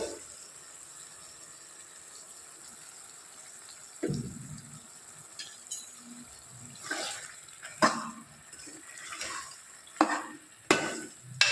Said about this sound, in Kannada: ಇಷ್ಟು ಫ್ರೈ ಮಾಡಿಕೊಂಡು ಈ ಟೈಮಲ್ಲಿ ಮಸಾಲೆ ಹಾಕ್ಕೊಳ್ತೀನಿ.